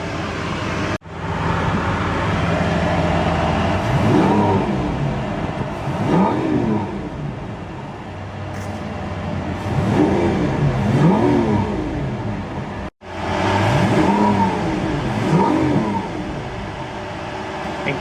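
Lamborghini Aventador engine revving in repeated loud, rising-and-falling blips over a steady idle, with a brief cut near the start and another later, no talking.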